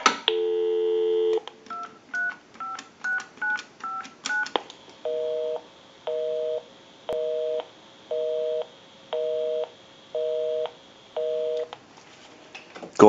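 A Southwestern Bell single-slot payphone dials out in a quick run of DTMF keypad tones, then a steady busy signal pulses on and off in even beeps for several seconds, clear and close with no talking.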